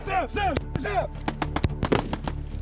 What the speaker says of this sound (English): most confronting is the sound of gunfire at such close range